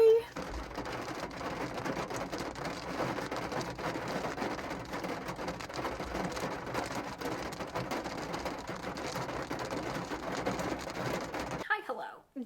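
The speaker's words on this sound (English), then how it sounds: "now we're just turning to big raindrops." Heavy rain with big raindrops pours steadily after a burst of hail, a dense, even hiss and patter close by for most of the stretch before stopping abruptly near the end.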